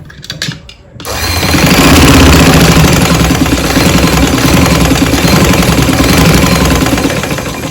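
An electric sewing machine stitches fabric for a beginner sewing lesson, its motor whirring steadily and loudly after a brief quiet start, running continuously with no talk.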